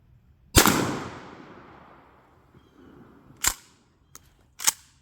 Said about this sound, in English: we're going to pattern this shotgun